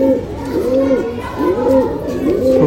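A female Rampuri pigeon coos loudly and close, repeating rolling, swooping calls in quick succession.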